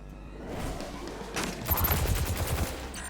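In the video game Destiny 2, a fan of darts or knives is thrown in a quick burst of sharp, crackling impacts that come in rapid succession against background game sound effects.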